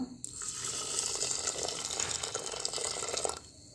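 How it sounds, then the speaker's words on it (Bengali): Milk pours into a pressure cooker holding washed gobindobhog rice, a continuous close splashing gush lasting about three seconds before it stops. "এবার আমি দিয়ে দেব পরিমাণ মতো দুধ।"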